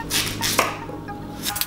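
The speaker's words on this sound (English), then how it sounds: "I'm gonna go ahead and slice my sweet potato into" A kitchen knife slices a sweet potato into rounds on a cutting board, with a few close, crisp cuts and a sharp knock against the board, no talking.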